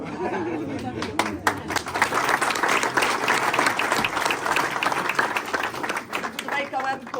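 Warm audience applause at a cooking competition event, a sustained patter of many hands clapping with some chatter and a chuckle mixed in beneath it, holding steady throughout.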